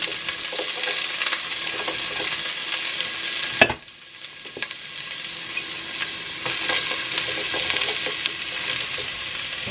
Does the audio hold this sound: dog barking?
no